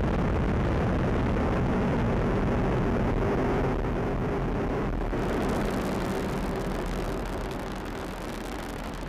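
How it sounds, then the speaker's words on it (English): A United Launch Alliance Atlas V rocket lifts off on the AEHF-4 mission, producing a continuous, loud, broadband roar that rumbles steadily throughout with no pauses. "We have ignition, 2, 1, and liftoff of the AEHF-4 mission carried by United Launch Alliance Atlas V rocket for the United States Air Force"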